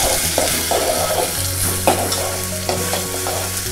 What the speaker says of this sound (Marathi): कढीपत्ता आणि कांदा आणि टोमॅटो चांगलं हे परतून घ्यायचं आहे